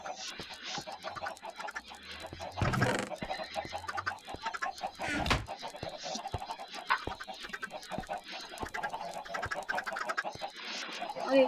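Chickens clucking in the Minecraft video game, a string of short, repeated clucks and soft clicks scattered over several seconds at a fairly quiet level.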